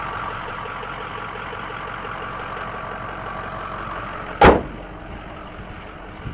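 A Ford truck engine idles in a steady, moderate drone, interrupted partway through by one sharp, loud clack before the even running resumes.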